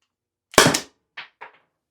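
A Byrna less-lethal launcher fires one loud, sharp, close pop, followed by two fainter, brief knocks in the otherwise quiet surroundings.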